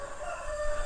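A rooster crows briefly, its drawn-out tonal call clear but not very close, over faint background noise.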